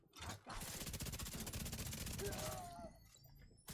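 Rapid automatic gunfire from a weapon landing headshots in The Division 2: a long, sustained burst of evenly spaced shots that is loud and close, then tapers into a few scattered sounds.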